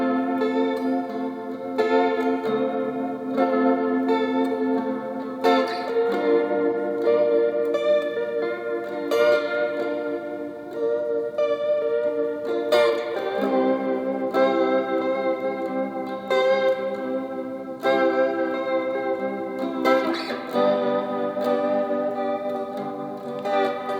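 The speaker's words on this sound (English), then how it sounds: "The strum pattern is going to be a mixture of down and up strums." A guitar plays a slow chord progression for a song, mixing down and up strums with arpeggiated notes on the lower strings, steady and close with chorus-like shimmer and reverb, heard alone with no talking.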